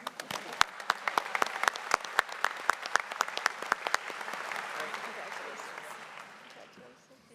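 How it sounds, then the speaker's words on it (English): Audience applause at a university graduate commencement ceremony, a steady wash of clapping with sharp individual claps standing out, swelling then fading away toward the end. "And let's clap for her."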